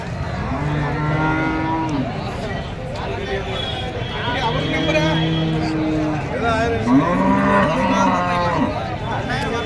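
Jersey cows moo in long low calls, several in turn, amid a busy outdoor cattle market crowd in Karimangalam with people chattering throughout.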